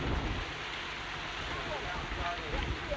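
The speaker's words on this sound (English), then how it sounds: "So pretty steady rain now at the UWI-JFF Captain Horsburgh Centre of Excellence." Steady rain driven by wind at an outdoor football ground, a continuous broadband hiss with faint gusts and microphone buffeting, even in level throughout.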